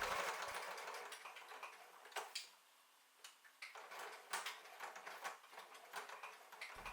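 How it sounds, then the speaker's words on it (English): Sewing machine stitching fabric for a zipper wristlet pouch, a rapid even ticking of needle strokes that slows for a moment, then runs on, close and quiet. "lower the presser foot and continue sewing"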